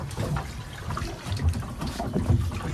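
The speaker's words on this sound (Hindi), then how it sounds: "अभी बोट चलाई जाएगी" A tourist boat starting out on a lake at Mahabaleshwar, with a steady low engine rumble, lapping and trickling water, and wind buffeting the microphone.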